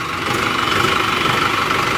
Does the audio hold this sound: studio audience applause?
no